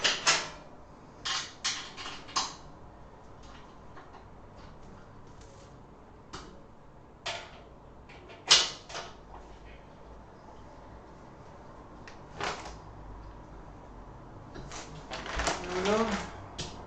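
Intermittent clicks and ratcheting bursts come from bolts being tightened while IKEA furniture is assembled, scattered over a quiet room background with a cluster of quick clicks near the end. A voice talks over it.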